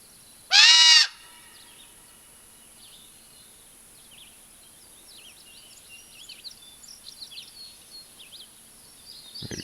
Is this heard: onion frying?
no